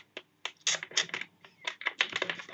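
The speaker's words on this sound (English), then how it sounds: "for now, we're going to connect the keyboard" Keys clacking on a computer keyboard being set up for a RasPad 3.0 tablet, irregular bursts of close, crisp keystrokes with short pauses between them.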